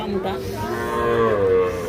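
A young Sahiwal bull calf at a busy cattle market gives a sustained, drawn-out moo, loud and close, with no speech over it.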